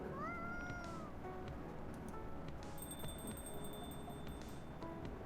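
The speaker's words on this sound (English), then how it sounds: "the cat has been mewing for attention all this whole while" A cat meowing for attention in Coffee Talk 2, a few short rising mews early on over a soft background hum and faint chimes, with no talking.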